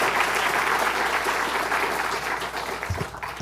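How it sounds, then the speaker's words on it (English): An audience at a CreativeMornings event in New York claps for people who gave short on-stage pitches. The applause is full and sustained, like a sheet of sound, and thins slightly in the last moments. "Can we give them another round of applause?"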